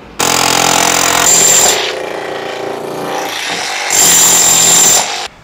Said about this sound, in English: Now there's room for me to drill a hole.